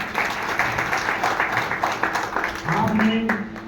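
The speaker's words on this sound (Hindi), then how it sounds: "देवांगन जी पर जोरदार तालियां" Loud crowd applause at an event honouring an elected municipal councillor, dense and continuous, with a voice calling out over the clapping near the end.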